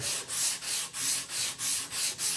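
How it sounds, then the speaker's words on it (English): Sandpaper rubs back and forth across the bottom of a wooden spoon in quick, even strokes, about eight rasping passes, close and steady with no voices. "And then I'm just going to sand the bottom."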